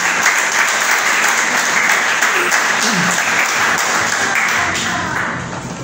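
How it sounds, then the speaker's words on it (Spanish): Loud, sustained applause from a church congregation, many hands clapping together in a dense wash that stays strong before tapering slightly toward the end, with faint voices mixed in. "Denle un aplauso al Señor."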